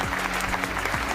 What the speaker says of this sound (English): If you could just get some applause.